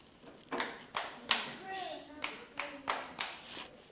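A school student claps out a music rhythm line, producing about eight distinct sharp hand claps in an uneven pattern, close and fairly quiet, with faint voices in the background.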